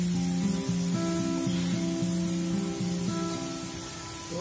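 Coriander, garam masala and goda masala sautéed in a pan, giving a steady, close sizzle and spray-like hiss with a faint tonal hum underneath, running continuously without talk.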